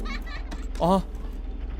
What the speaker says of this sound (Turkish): Bir gülme sesi geldi.